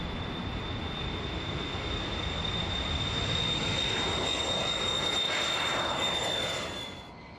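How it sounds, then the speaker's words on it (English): A former U-2 spy plane cruising at about 65,000 feet, heard as a steady, broad jet-engine roar with a thin high whine running through it, loud and constant before easing off at the very end. "this former U-2 spy plane roams the skies above, collecting dust"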